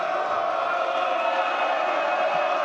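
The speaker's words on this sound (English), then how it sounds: "And now the Fordham Prep crowd comes alive." Fordham Prep fans cheering at a varsity basketball game against Iona Prep, a loud, steady wall of crowd roar that holds without a break from start to finish.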